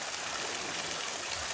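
Water jets spraying from a fountain statue in an outdoor garden by a pool, a dense, steady hiss of falling and splashing water, close and constant with no voices.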